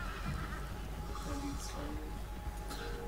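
Horse whinnying and hooves clopping in a video game, a steady bed of game sound with a brief neigh standing out midway, while voices talk over it throughout.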